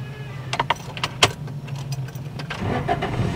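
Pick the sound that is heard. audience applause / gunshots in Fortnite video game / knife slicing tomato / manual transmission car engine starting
manual transmission car engine starting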